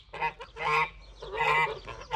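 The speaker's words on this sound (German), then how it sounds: "Gänse." Geese honk in repeated loud, harsh calls, several overlapping bursts close by, with no talking.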